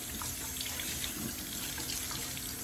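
Hand-dyed cross stitch fabric is rinsed and squeezed under a running tap, producing a continuous, even rush of water with faint splashing, close and steady throughout.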